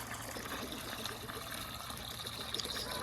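Water being dumped out of a cracked animal water pan on a homestead, a steady splashing trickle and gush running through the whole stretch, fairly close, with a brighter splash near the end.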